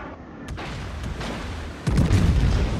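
Heavy naval guns on a warship in a video game fire shells, a sharp distant crack followed by a deep, loud booming roar that rumbles on for over a second.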